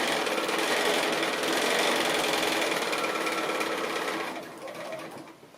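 A sewing machine runs steadily, stitching a quarter-inch seam around fabric pieces for a quilted jar opener, its dense mechanical whir continuous and close before easing off near the end.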